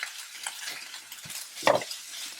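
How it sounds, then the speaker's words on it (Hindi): Crushed cumin, turmeric and salt being stirred into a cooking pan for an aloo paratha filling: a soft sizzling fry with close scraping stir strokes, one louder scrape near the end, no voices. "यहाँ पर मसालों को इसके साथ मिक्स करें"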